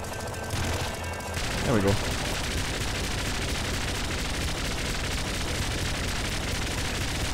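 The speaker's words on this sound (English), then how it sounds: "I'm just going to walk back and shoot." Rapid gunfire from shooting in the video game Nuclear Throne, a dense continuous burst of shots that runs steadily under a brief spoken remark and game music.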